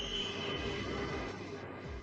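Brand-new metro train rumbling steadily along the track with a sustained low roar, wheel hiss and a faint high squeal throughout, close and continuous.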